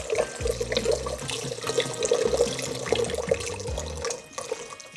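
Water is poured into flour for bread and pizza dough, a loud, continuous splashing stream with bubbling and gurgling that eases off near the end.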